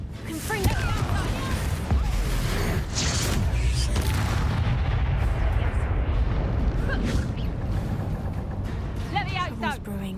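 Confringo fire spell blasts in Hogwarts Legacy, a dense run of booming explosions and crackling fiery bursts over a steady roaring combat bed, with several sharp impacts and spoken game voices mixed in throughout.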